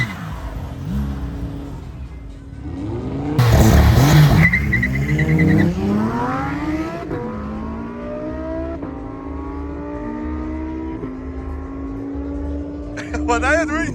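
A Dodge Viper ACR's V10 revs hard and accelerates past during a drag-racing and drift event, its engine note climbing through several gears loud and close, with tire noise and a voice or two in the mix.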